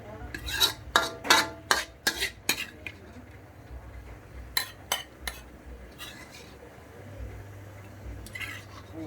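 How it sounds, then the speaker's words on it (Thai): Roasted pork larb scooped from a pan onto a plate, with a quick run of metallic spoon scrapes and clinks against the cookware, a short pause, then a few more scrapes, close and fairly loud. "ขออนุญาตตักใส่จานก่อน"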